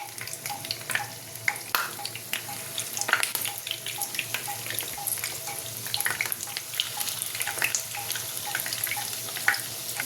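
Egg and onion chop frying in hot oil, with a steady, busy sizzle and crackle of bubbling oil running throughout, fairly close and alone without voices.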